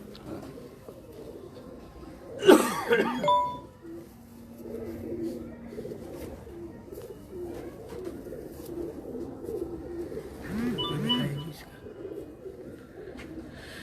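Pigeons in a rooftop loft cooing in low soft bursts, with a sharp flutter or clatter near the start and murmured voices through the background.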